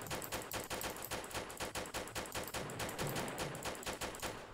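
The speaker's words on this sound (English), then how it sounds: "Someone shooting me real good." Rapid automatic gunfire in a Roblox island wars video game, a dense rattling stream of shots in quick bursts, loud and continuous with no talk.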